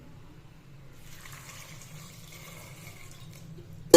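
Water is poured over chopped vegetables, including brinjal, in a pot while making sambar, a soft, faint gurgling pour that builds after a quiet start and runs for a few seconds, with no talking.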